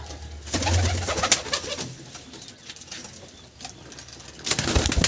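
Pigeons, among them big old-line Kaldom birds, cooing in a loft, soft layered coos rising and falling over several seconds with small clinks and rustles nearby, no one talking.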